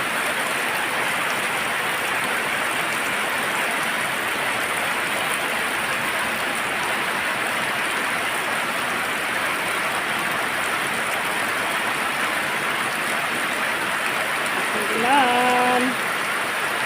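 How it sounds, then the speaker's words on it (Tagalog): Heavy rain falling steadily, a dense continuous hiss of drops on surfaces throughout, with a short voice near the end. "Lakas ng ulan dito sa amin."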